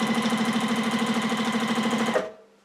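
A sewing machine stitching free motion quilting, a rapid steady mechanical chatter of needle strokes that runs evenly and then stops abruptly near the end, leaving quiet hum. Nobody speaks.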